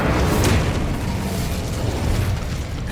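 Incendio fire spell in Hogwarts Legacy, a steady roaring burst of flame with a brighter flare near the start, loud and continuous without speech.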